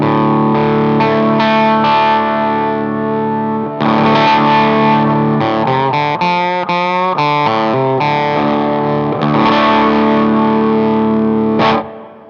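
A distorted electric guitar plays sustained chords and a few quick runs through a preamp EQ and Color Tone Vibreverb reverb, loud and continuous with short pauses.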